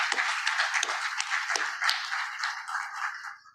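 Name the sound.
applause for Jyotsana Dua, absent contributor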